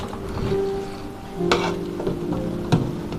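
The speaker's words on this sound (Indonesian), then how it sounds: "Nah, kita masukin coklatnya nih. Nah, terus kita aduk sampai larut." A spoon scrapes and clinks steadily against a pot while chocolate is stirred into water to dissolve it, with a few sharper knocks against the metal over a continuous swishing wash.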